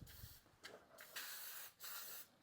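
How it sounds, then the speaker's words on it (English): Cooking spray hisses from a can into muffin tins in several short, sharp bursts separated by brief pauses, close and fairly quiet. "I'm going to fill them after I spray them with cooking spray."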